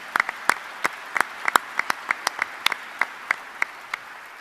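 A small group applauds a chief of staff at a live sports radio show, sparse, distinct hand claps spaced irregularly across a few seconds, fairly close and moderately loud, with no one speaking over them.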